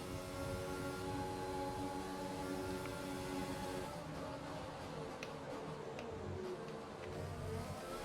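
A Formula 1 car engine in the racing game F1 2020 hums with a steady tonal drone, fairly quiet and continuous, with a few faint ticks over the top.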